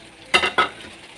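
A vada curry simmering in a pan is stirred briefly, giving two short bursts of scraping and bubbling sizzle close by, separated by a short pause, with quiet kitchen background around them.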